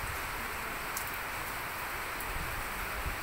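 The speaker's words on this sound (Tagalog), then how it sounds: "Lakas ang ulan dito sa aming rooftop." Steady, dense hiss of heavy rain falling on a rooftop, continuous and fairly close, with no voices.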